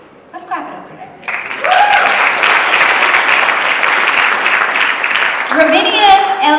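Audience at a Ravinia El Sistema youth music program event in Chicago bursts into loud, sustained applause that swells after a quieter start and runs several seconds, with a few voices mixed in near the beginning and end.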